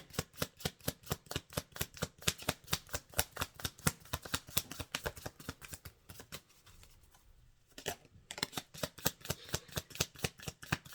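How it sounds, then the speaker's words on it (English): Rapid, steady riffling of playing cards being shuffled, crisp repeated flutters close by, with a brief pause in the middle before the shuffling resumes. "Let's see what shuffles out here."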